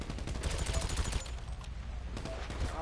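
Rapid minigun fire in a video game, a dense burst of fast repeated shots for about a second, a short pause, then another burst near the end, loud and close.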